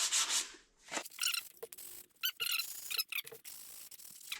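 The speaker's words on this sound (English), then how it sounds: "slightly sand all the edges, the points." Hand sanding works over the edges of a small wooden box in short, uneven rubbing strokes, each a brief scratchy rasp with faint squeaks, heard close and quiet with gaps between passes.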